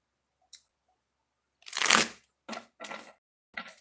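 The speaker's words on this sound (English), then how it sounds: "Two shuffles." Oracle cards are shuffled by hand in a few short papery riffles and slides, one longer burst followed by three brief ones in a quiet room.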